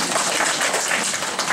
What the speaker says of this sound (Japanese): どうぞ拍手の際には遠慮なさらずに